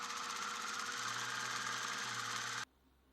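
A sewing machine stitching silver bias tape onto fabric hums steadily at even speed for a few seconds, then cuts off abruptly into quiet; no speech.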